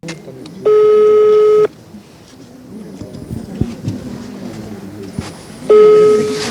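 A telephone call to a general contractor gives two long, steady electronic ringback tones about a second each, separated by a few seconds of quieter room noise.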